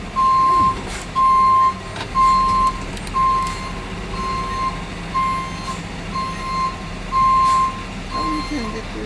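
A vehicle reverses with a steady series of loud, evenly spaced backup beeps at a busy event site, while an engine rumbles underneath and people talk nearby.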